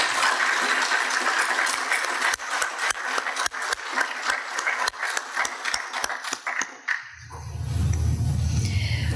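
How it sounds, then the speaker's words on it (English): An audience at a shipyard graduation ceremony applauds the panelists with dense, steady clapping that thins into scattered claps before a different low rumbling sound takes over. "let's go ahead and give them a round of applause"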